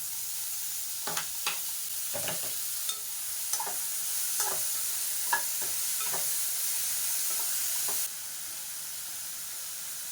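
Tomato and capsicum pieces sizzle in a pan while a spatula stirs them in a steady series of scraping strokes; a constant frying hiss runs underneath and drops slightly near the end.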